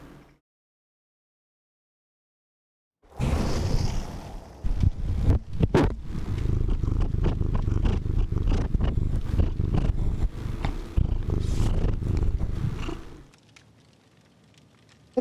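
Ginger, a pet cat, purrs in a low, continuous rumble held close to the microphone for about ten seconds. The purr starts abruptly after a silent gap and then fades to quiet near the end.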